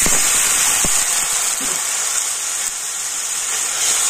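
Water splashed into a hot pan of spices, including Kashmiri chilli powder, cumin and coriander powder, for a potato curry, hisses in a loud, steady, close sizzle that holds for the whole stretch.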